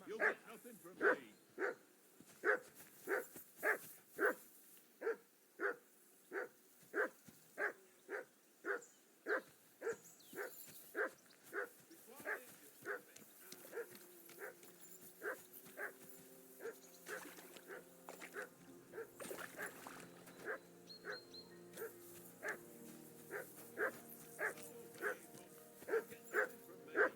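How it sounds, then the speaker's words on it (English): A dog barks repeatedly in the medieval video game Kingdom Come: Deliverance 2, a long run of evenly spaced, fairly close barks that continues with faint background sound and quiet voices. "call that dog to heel."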